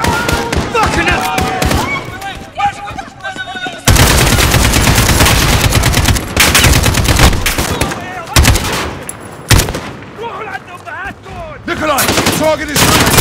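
Dense gunfire in Call of Duty Modern Warfare crackles in rapid automatic bursts and sharp single shots, loud and close, broken by brief pauses, with shouted voices mixed in.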